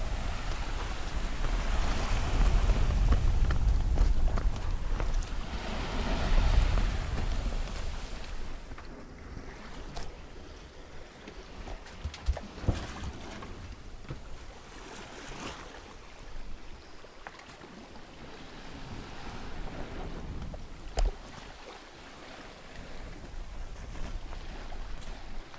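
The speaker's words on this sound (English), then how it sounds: "Not setting any speed records, but just beautiful sailing." A sailboat under sail on the open sea on a sunny day with light wind, heard as a continuous soft wash of wind and water with faint creaks and occasional small knocks, no voices.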